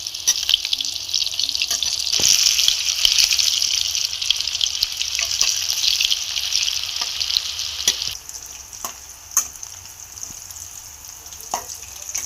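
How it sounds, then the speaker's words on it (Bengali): Boiled potatoes fry in hot oil in a pan, giving a steady bright sizzle with occasional clinks and stirring scrapes; the hiss eases partway through, fairly close and without talk. "এবার আলুটা আমি তেলে ভেজে নেব"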